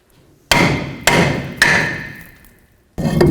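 Three quick metal hammer strikes on a lug nut to free a brake rotor on a 1998-2011 Ford Ranger, each a sharp ringing clang, then a pause and a fourth hit; close and loud with no talking.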